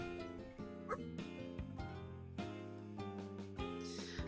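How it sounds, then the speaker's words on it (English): Pit bull barking inside a visual novel game, short yapping barks set against a continuous, busy music track that stays loud throughout. "Pit bulls are loud as heck."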